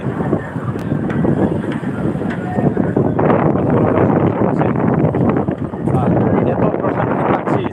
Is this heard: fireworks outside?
no